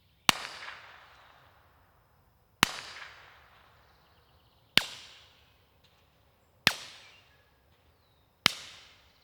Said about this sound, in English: you start to get that kind of sharp crack that stings your ears a little bit the more you shoot